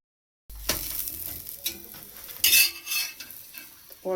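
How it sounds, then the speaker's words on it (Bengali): Radish parathas fry in ghee, crackling and sizzling softly nearby while a spatula scrapes and clinks against the pan in uneven strokes, with no talking. "পরোটাগুলো আমি সব ভাজা করে নিই"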